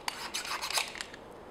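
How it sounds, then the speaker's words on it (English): A craft blade is scraped in quick rasping strokes against a sharpener while shaping foam for a prop iron war axe, several short close gritty passes in a quiet workshop with no talk. "sharpen my blade again"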